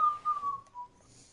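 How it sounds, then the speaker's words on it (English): A person whistles a single clear tone that glides slowly downward for about a second, close and distinct, over faint background noise. "you can hear you whistling loud and clear"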